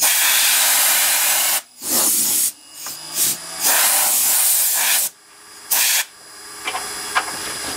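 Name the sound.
compressed air blowing sawdust off a turned wooden dibber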